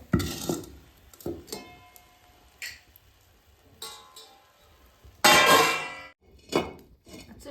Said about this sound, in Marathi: चुलीवरती तवा ठेवून घेऊ.